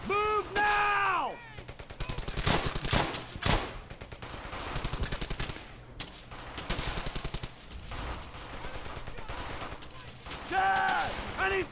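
Machine gun fire in Brothers in Arms: Hell's Highway, long rapid rattling bursts of automatic shots with scattered louder single gunshots and brief pauses in between.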